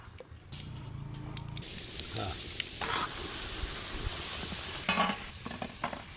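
Kalo jam sweets made from puffed rice frying in lightly heated oil, a bubbling sizzle with wet squishes and occasional stirring knocks, fairly close and steady throughout.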